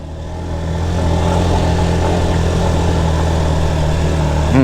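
A vehicle engine climbs a dry hill road in first gear under added throttle, its loud, steady revving drone building over the first second and then holding close and sustained, with no talk.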